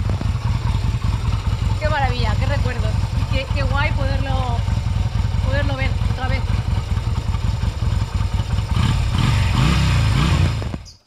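A Yamaha Virago XV 250cc modified cruiser motorcycle engine drones steadily while riding, with wind rumble and people talking over it throughout.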